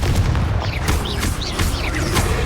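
Confringo blasting spell explosions in the video game Hogwarts Legacy, loud booming bursts and crackling blasts in quick succession, with chirpy magical whooshes.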